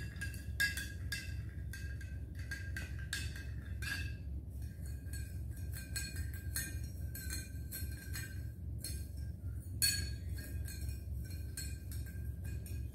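A metal spoon stirs sugar dissolving in water in a glass, with rapid repeated bright clinks against the glass over a low steady background hum, no talk.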